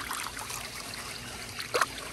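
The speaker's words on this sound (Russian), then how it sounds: "Брызги летят." Water splashing and trickling near a campsite in New York: a soft, continuous close dribble with a brief brighter splash near the end.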